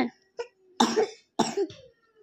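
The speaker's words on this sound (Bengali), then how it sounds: "তোমার কাশি হচ্ছে?" A child gives a few short, faint coughs with a little throat clearing, alone and close by.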